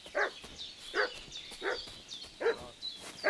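Dog in Kingdom Come Deliverance II barking repeatedly at a steady pace, about five sharp barks over a faint ambient background, moderately close with no talk.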